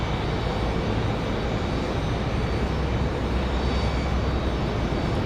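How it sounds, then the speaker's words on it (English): Spirit Airlines Airbus A220 landing at Raleigh-Durham International on a windy day, a steady broad jet roar holding loud and even throughout with a low rumble underneath and no pauses. "Nice smooth landing for that A220. Spirit Airlines, NKS 1760, Spirit Wings from Fort Lauderdale."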